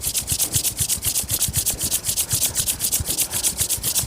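Two palms rubbed briskly together during a guided hand-warming exercise, a steady dry swishing friction repeated in a quick even rhythm, close and fairly loud with no talking over it.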